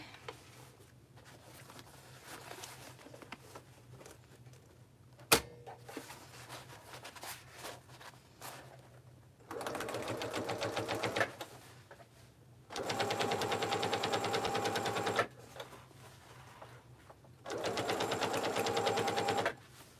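A sewing machine stitches down the side of an Oxbow tote bag in three separate bursts of rapid, even needle rattle, each lasting a few seconds, separated by quiet handling and a sharp click.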